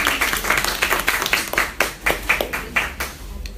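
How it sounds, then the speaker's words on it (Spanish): A small group claps after a dental case presentation in a class setting; separate, fairly loud hand claps in an uneven but steady rhythm, close by, with no talk over them. "Ya, un aplauso."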